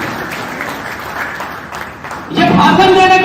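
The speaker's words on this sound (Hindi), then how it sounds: "शख्सियत के लिए जोरदार ताली होनी चाहिए।" Loud applause from an audience at a district traders' association event in Palamu, breaking out suddenly after a stretch of quieter crowd noise and speech and filling the rest of the moment.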